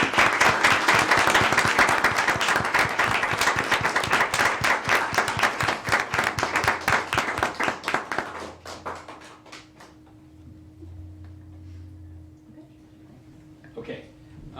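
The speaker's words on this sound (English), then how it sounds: "Let's give them a round of applause" Applause from the audience at a mayor and council meeting after a proclamation, loud dense clapping for about eight seconds that thins to scattered claps and fades into room quiet with a low hum.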